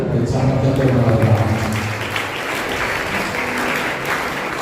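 A congregation applauds during a Holy Mass at RCM Church in Proddatur to welcome the parish priest, Reverend Father Shyam. The steady crowd clapping stays loud throughout, and a voice is heard over it near the start.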